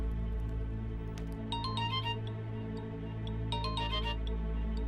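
A mobile phone rings indoors in a Turkish TV drama scene, sounding as two short bursts of a melodic ringtone, quiet over a low steady background hum.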